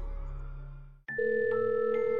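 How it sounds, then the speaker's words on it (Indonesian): Telephone call tone in an animated horror story, a steady electronic ringing tone that starts abruptly after a low hum fades out and holds clearly to the end. "Nanti Andre, Mama telepon Papa dulu."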